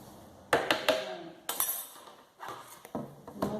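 A metal spoon clinks against a sugar container and dishes in a home kitchen, making a series of sharp, near clinks and taps with short quiet gaps between them.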